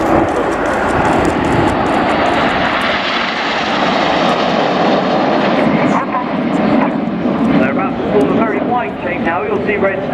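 Red Arrows jets flying in display formation at an air show, a loud continuous roar of engines sweeping overhead under a commentator's amplified voice.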